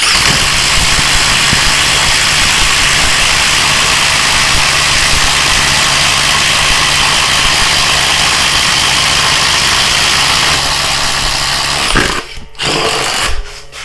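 A Metabo HPT Triple Hammer 36V cordless impact driver drives a long screw into wood, a loud, steady, dense hammering whir held for about twelve seconds before cutting out, with brief clatter after and no talking.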